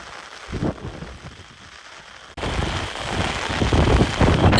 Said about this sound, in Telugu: గైస్ చూస్తున్నారు కదా ఎంత వర్షం పడుతుందో